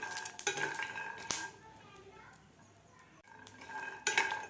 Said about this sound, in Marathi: लसूण, खोबरं आणि शेंगदाणे आपले व्यवस्थित भाजलेले आहेत